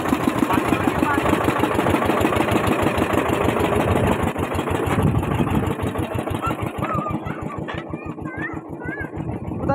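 A small boat engine chugs steadily on a morning jungle safari through the Sundarbans, its rapid regular pulses running close and loud throughout while people talk over it.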